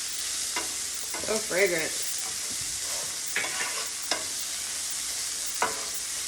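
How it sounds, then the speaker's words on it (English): Bacon is tossed with garlic and shallots in a hot pan. A steady frying hiss is punctuated by a few spatula scrapes, and a short spoken remark comes early on. "Just toss in my bacon so I can combine it."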